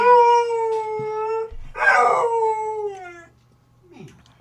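A dog howls in long, mournful, wavering tones, first one sustained howl and then a second rising cry that fades into softer whimpers, loud and close.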